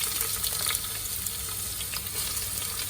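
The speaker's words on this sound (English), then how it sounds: "Let's fry the onions." Sliced onions fry in well-heated oil with a loud, steady crackling sizzle and small pops throughout, close up and with no voices.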